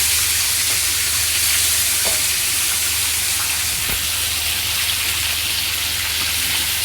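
Butter chicken frying in a pan makes a loud, steady broadband sizzle throughout, with a couple of faint scraping stirs beneath it.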